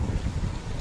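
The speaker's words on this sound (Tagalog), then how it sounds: "Pero kahit wala pa yung bagyo, lakas na ng alon no? Saka hangin." Strong wind and rough sea waves ahead of a typhoon, a heavy continuous roar with low buffeting gusts against the microphone, steady and loud throughout the short stretch.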